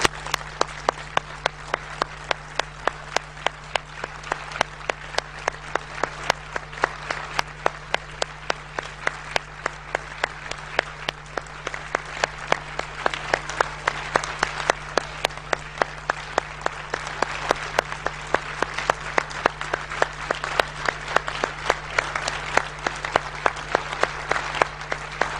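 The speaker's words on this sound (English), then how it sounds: "So please join me in saluting and applauding people who restored Romania's faith in democracy." An audience at a political speech in Brussels applauds steadily for a long stretch, a dense, even wash of many hands clapping with a constant low hum underneath, no voices breaking through.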